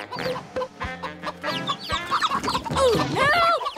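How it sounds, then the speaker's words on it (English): Cartoon chickens cluck and squawk in a busy, overlapping chorus close by, with a music score running underneath and a few pitched, chirpy bird-like calls near the end. "Here, chicky, chicky, chicks."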